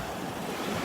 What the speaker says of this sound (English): Looks like the waves might be picking up and the breeze might be picking up a little bit too